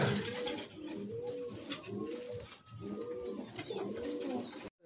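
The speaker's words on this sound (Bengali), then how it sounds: "হ্যাঁ, সিরাজুলের হাতের পায়রা।" Madrasi pigeons in a loft give repeated low cooing calls in rounded phrases, close and steady, with a few faint higher chirps mixed in.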